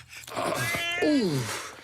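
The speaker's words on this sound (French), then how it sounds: "Oh non, mon chat!" Cat meowing in an animated French children's cartoon: a drawn-out, rising then falling meow, close and clear, with a short vocal sound before it.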